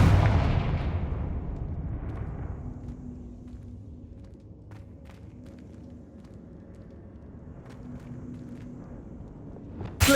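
A Confringo spell blast in Hogwarts Legacy opens with a loud sharp explosion that decays into a long fading rumble, faint scattered impacts following, and another sudden burst right at the end.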